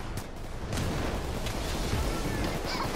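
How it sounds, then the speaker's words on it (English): Explosion in the Payday 2 video game, a loud sustained rumbling roar with crackling bursts that swells after the first second and keeps booming steadily to the end. "That was the best explosion I've ever seen."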